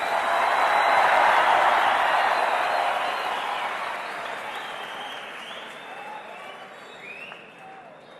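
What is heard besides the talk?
audience applause at a speech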